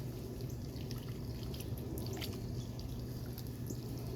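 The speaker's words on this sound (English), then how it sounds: "So, what I'm going to do is I'm going to water this in first." Water poured onto soil around cucumber plants in a fall garden, a steady soft splashing and trickling that runs without a break, close by and fairly quiet.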